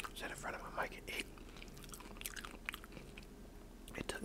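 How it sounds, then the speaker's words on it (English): Soft, close-miked chewing and biting on vegan nacho chips, with wet mouth noises and faint crunches over a hissy background. "I can just sit in front of my mic and eat"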